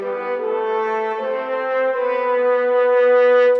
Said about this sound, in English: so I present it here in the solo horns